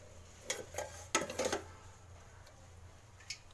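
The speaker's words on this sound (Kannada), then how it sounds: "ಪಾತ್ರೆ ಇಟ್ಟು ಎಣ್ಣೆ ಹಾಕಿ" A pot clanks and scrapes onto a stovetop in a few close metallic knocks, then only a low steady hum remains.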